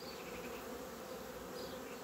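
A steady, dense buzzing of many bees at an open hive fills the air, close and continuous, with no voices.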